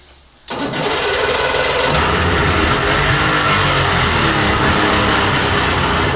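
An old outboard motor fires up after a short quiet stretch, then runs loud and steady close by with a constant broadband roar.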